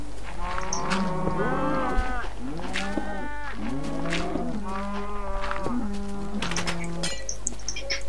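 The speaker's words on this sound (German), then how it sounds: "Ah, ich bin bei den Kühen eingeschlossen." Cows in the game Minecraft moo repeatedly and loudly, several overlapping drawn-out lowing calls in close succession over a constant low hum.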